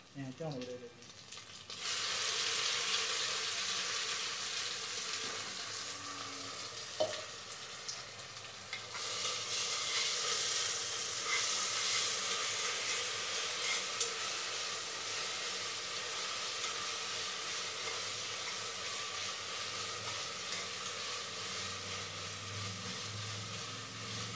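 Green chili paste sizzles hard in hot oil with golden-brown fried onions for pulao, a loud steady frying hiss with occasional stirring scrapes, no talking.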